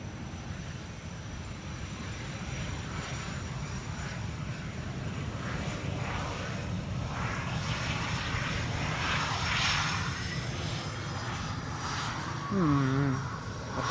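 An airplane arriving at Amsterdam Schiphol Airport gives a steady, broad engine roar that holds for the whole stretch and swells slightly toward the end, with a brief high chirp near the close.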